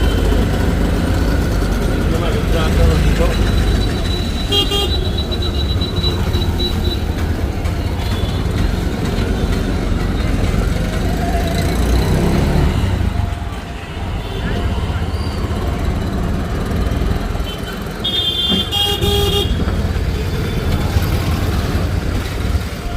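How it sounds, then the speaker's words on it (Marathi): Auto rickshaw ride to Botad station in Gujarat, with a steady engine drone throughout and brief traffic horn blasts near the start and around the end, with voices talking over the ride. "आता आम्ही रिक्षातून चाललो आहे स्टेशनकडे"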